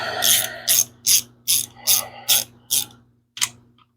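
A ratchet wrench tightens a half-inch bolt on a home-built street/strip engine, giving eight crisp, loud bursts of rapid clicking in a steady rhythm with short pauses between strokes, close up and with no talking.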